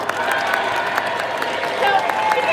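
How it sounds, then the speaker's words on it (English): Audience applause for a volunteer at a live sea lion show, a short burst of steady clapping from a crowd with some cheering mixed in, moderately loud and continuous. "Let's give a round of applause for our volunteer."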